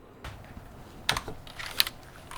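Several quick, light clicks of typing on the shallow keys of a Samsung Galaxy Tab S11 Ultra slim cover keyboard, irregular taps close up in a quiet room.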